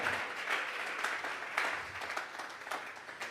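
A church congregation claps during a Sunday worship service, a dense, steady wash of many hands that keeps going without pause, moderately loud and fairly close.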